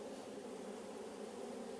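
Honey bees crowd around a queen cage inside a hive, making a steady, close, dense buzzing drone that holds unbroken throughout, with no talking.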